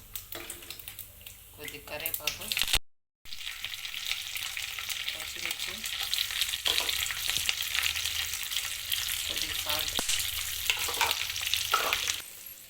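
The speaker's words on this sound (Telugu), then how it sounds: "పోపు వేసుకోవాలి" Spices tempering in a spoon of oil for curd rice, a steady frying sizzle with stirring scrapes that continues through the clip, briefly cut near the start, with a voice talking faintly underneath.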